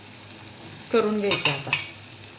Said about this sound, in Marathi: आता हे सगळे तसेच तळून घेऊ आपण